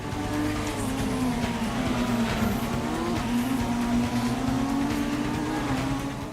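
Car racing in Gran Turismo on PS1: a steady engine drone with a sustained, wavering tire squeal running across the whole stretch, moderately loud and without talk.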